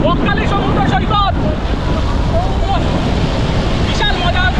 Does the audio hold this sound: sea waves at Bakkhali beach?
yes